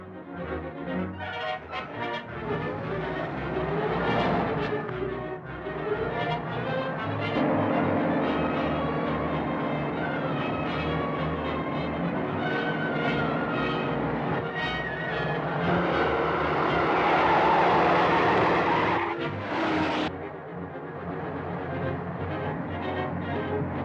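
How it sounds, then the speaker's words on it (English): Cars racing in a 1937 film chase, a continuous loud roar of engines and rushing motion with rising and falling intensity, ending in a sharp high skid-like screech before the noise settles. "That car in back of us seems to be sticking on our tail."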